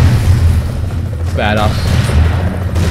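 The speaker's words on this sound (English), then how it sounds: "I'll show you this guy's grenades too. It's an airstrike." Booming airstrike explosions from the video game Broforce rumble loudly and continuously, a dense low roar with a brief higher burst in the middle, under faint game effects.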